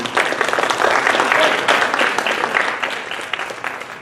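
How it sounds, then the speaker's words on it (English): Audience applause at an International Mother Language Day celebration at UMBC, steady dense clapping from a crowd for about four seconds and then tapering off. "So give them a round of applause."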